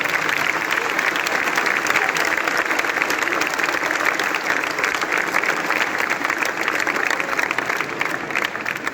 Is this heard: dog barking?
no